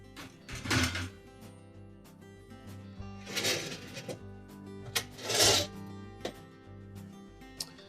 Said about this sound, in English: We'll slide that rack forward, we'll lift it up, pull the remaining distance forward, lift it up and away